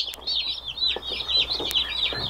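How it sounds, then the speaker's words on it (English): A tiny bantam chicken with feathered feet giving a quick series of high, thin clucking peeps close by, with a few sharp knocks in the background. "It's a bantam of some sort. It's got feathers on its feet."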